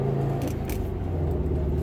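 A 2010 Subaru WRX STI fitted with an OBX Racing catback exhaust cruises at about 3,000 RPM on light throttle, giving a steady, close, continuous low engine drone and exhaust rumble with no pauses.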